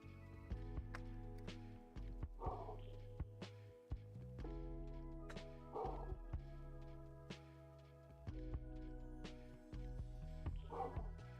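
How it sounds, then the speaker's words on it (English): A neighbor's dog barks in repeated single woofs at spaced intervals, heard faintly from a distance beneath a steady hum and indoor workshop noise. "Neighbor dog is not happy with something."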